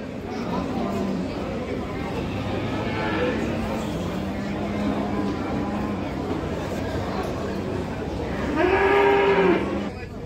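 Cattle at a livestock market, low moos over a steady crowd murmur, with a louder, closer moo near the end and people talking nearby.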